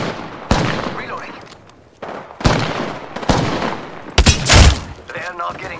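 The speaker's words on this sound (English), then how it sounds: "I'm getting shot at!" Gunfire erupts in a video game: several sharp bursts of shots and fusillades ring out loud and close, separated by short gaps with background game noise.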